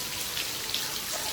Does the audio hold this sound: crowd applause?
no